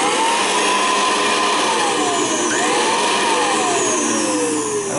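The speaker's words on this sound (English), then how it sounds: "One thing it would probably scare some people is when you turn on these old motors." Suction-only Royal vacuum cleaner from the 1920s with its old motor running, a loud close whine that wavers in pitch over a steady rushing airflow roar.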